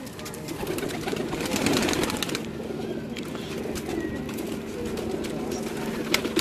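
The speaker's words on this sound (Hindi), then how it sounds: "डब वाले कबूतर आपको थोड़ी देर पहले दिखाए भी हैं" Pigeons coo repeatedly in low, throaty murmurs, fairly close, on a rooftop, with a steady hum of background noise and some faint voices mixed in.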